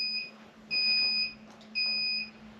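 An IntelliQuilter computerized quilting system emits three shrill, steady electronic beeps during shutdown, each about half a second long, close and clear over a faint low hum.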